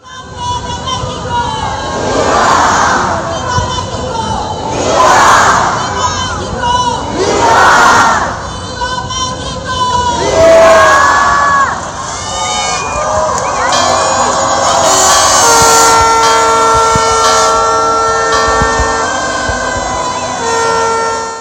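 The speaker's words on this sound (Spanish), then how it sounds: "no puede faltar el grito de independencia" Large crowd shouting and cheering in rhythmic loud bursts at the Mexican Independence grito celebration in downtown Aguascalientes, followed by sustained roaring, whistles and horn-like tones, with a siren-like wail rising through the din.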